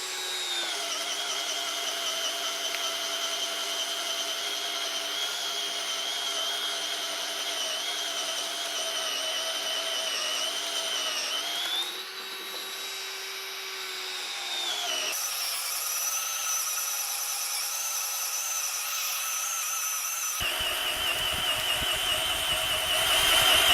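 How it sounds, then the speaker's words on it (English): Bosch cordless drill turning an auger bit into a fence post, a steady loud motor whine held close and continuous, dipping in pitch as it loads up before rising again and shifting speed toward the end. "So same post, same auger bit, same test, 2 minutes drilling"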